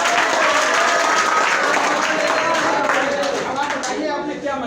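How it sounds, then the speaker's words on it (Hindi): An audience at a school or college demonstration claps loudly for the presenter, dense steady applause that tapers slightly toward the end, with voices faintly mixed in. "सर के लिए जोरदार तालियां।"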